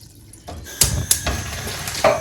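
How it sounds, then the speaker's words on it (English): Water poured from a container into a cooking pan for sweet potato vegetable pottage, arriving in a few short splashing bursts with brief pauses, close and fairly loud. "We'll start by adding some water to the pan."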